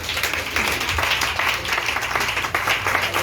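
Church congregation applauding the Lord, dense steady clapping from many hands filling the room, with a few voices mixed in underneath.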